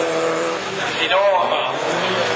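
A Honda rallycross car races past on the Lohéac circuit, its engine note rising and sweeping by mid-clip over steady track noise, while a commentator talks throughout.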